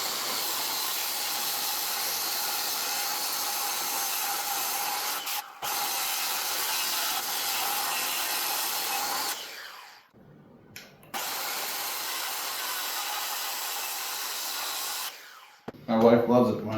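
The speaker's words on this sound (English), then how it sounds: "we'll take the circular saw and plunge cut the majority of that out of there" A circular saw plunge-cuts into a wooden slab, its loud steady whine running for several seconds, briefly stopping, then restarting for another long cut before dropping away near the end.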